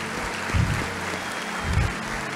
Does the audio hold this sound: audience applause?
yes